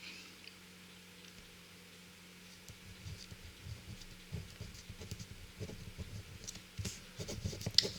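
A pen or pencil scratches and taps faintly on paper as a note is written by hand. After a quiet start, the strokes come in soft, irregular bursts close by, and no one talks.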